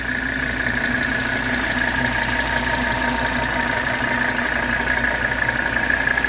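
A 1983 Mercedes 300SD diesel engine idles close by, a steady low-pitched clatter and hum with an even mechanical rhythm and no voices.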